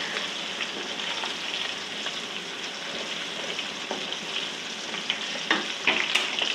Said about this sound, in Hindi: और तकरीबन मसाला इतना भी भूनूंगी मैं बस